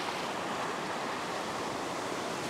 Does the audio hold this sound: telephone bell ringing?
no